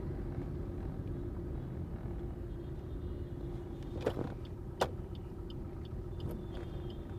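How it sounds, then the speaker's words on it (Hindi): A car creeps forward slowly in night traffic, giving a low steady engine rumble from inside the cabin, faint and continuous, with a couple of soft clicks and distant traffic noise. "मैं हल्की सी लेफ़्ट लूँगा और कार को आगे बढ़ाऊँगा"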